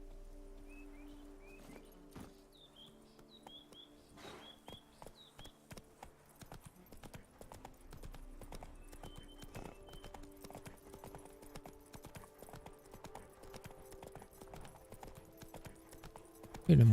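Horse hooves clip-clop steadily at a trot or gallop in The Witcher 3: Wild Hunt, a continuous close rhythmic patter with a few bird calls early on and game ambience underneath.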